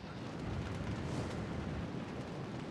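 Torpedo strike on a ship in a naval warfare game, a steady heavy rumbling roar of the explosion's aftermath, dense and continuous without distinct breaks.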